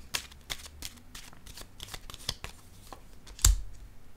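Tarot cards being shuffled and dealt onto a table, a quick run of soft papery riffles and flicks ending in one firmer slap as a card lands, close and quiet, with no voice.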